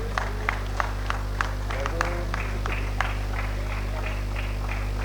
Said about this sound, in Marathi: टाळ्या वाजत राहिल्या पाहिजेत